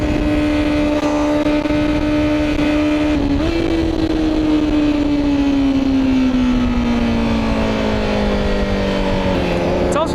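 A Honda CBR1000RR-R Fireblade motorcycle roars loud and close under a rider, its steady high engine note dipping briefly around a shift, then winding down gradually as it decelerates and downshifts, with a faint voice underneath.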